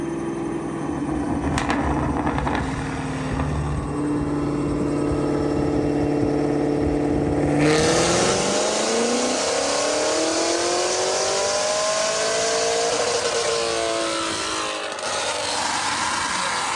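Chevrolet LT4 V8 engine revving hard on a dyno, loud and close, with a steady high drone climbing then sweeping upward through the revs and holding near full throttle.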